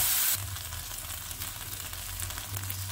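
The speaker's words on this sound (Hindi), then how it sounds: "अब हम दो चम्मच दही डाल देंगे इसमें, एक या दो चम्मच दही डाल दीजिए।" Chicken pieces for a Chinese-style chicken and vegetable stir fry sizzle steadily and loudly in a hot pan after yogurt is added, a dense continuous frying hiss throughout.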